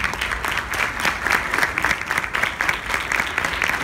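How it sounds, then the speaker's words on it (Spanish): A crowd applauding steadily at an award presentation during a conference, dense clapping that holds throughout without pause. "Fuerte el aplauso, es valiente."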